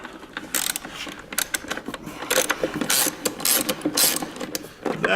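A ratchet wrench fitted with a 9/16 deep well socket turns out a bolt on the internal pump of a Kaivac cleaning machine, giving bursts of rapid, close clicking that start and stop in quick repeated strokes.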